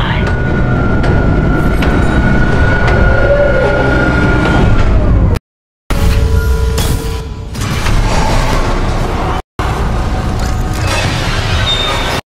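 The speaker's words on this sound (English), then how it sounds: "Replacing damaged tram car." Heavy mechanical clanking, creaking and rumbling as a damaged tram car is swapped out and moves along its track in the Dead Space Remake, loud and continuous, broken by two abrupt silent cuts.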